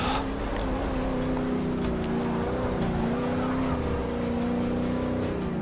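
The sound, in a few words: race car engine at low RPM, high torque setup, Forza Motorsport 6 video game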